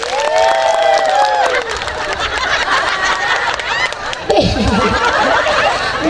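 Applause mixed with laughter and chatter rises from the congregation at a public Islamic religious gathering in an Indonesian village, with clapping, snickering and crowd noise under talk throughout.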